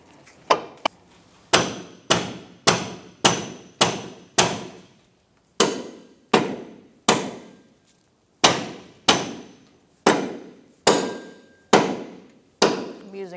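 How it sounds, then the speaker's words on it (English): A rubber mallet strikes the front lower control arm of a 2004-2009 Mazda 3 during ball joint replacement, about fifteen sharp, close blows in bursts with short pauses. "I'm using a rubber mallet, and I'm hitting the arm, not the ball joint."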